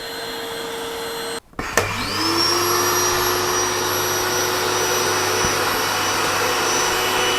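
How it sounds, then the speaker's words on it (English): A built-in electric air pump on a cheap king-size air bed switches on after a short click and settles into a steady, loud, high-pitched whine and whir that holds without change to the end, with no voice over it. "If I turn on the pump, bear in mind that I'm going to be in the middle of the two beds."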